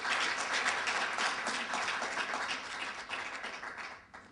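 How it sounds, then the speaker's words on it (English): A conference audience claps together in a dense, even burst of applause that holds steady, then thins and fades out near the end. "I would like us to give a round of applause to Maurice Carnet and to the Friends of the Congo"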